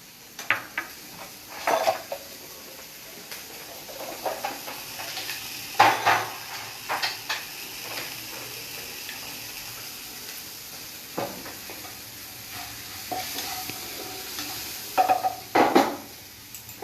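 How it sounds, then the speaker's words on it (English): Vegetables fry in a pan under a soft steady sizzle while a spoon stirs them, scraping and clinking against the metal in scattered bursts, no voices present. "Just give a quick stir."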